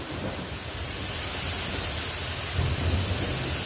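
Very loud thunder rolls through a storm as a continuous deep rumble over steady rain hiss, swelling slightly toward the end and heard close and alone.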